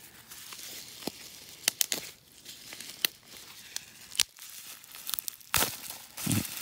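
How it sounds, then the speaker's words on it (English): Bubble wrap from a package of smoky quartz crinkles and rustles up close, with scattered sharp crackles and tearing sounds as the wrapping is pulled open. "Bubble wrap."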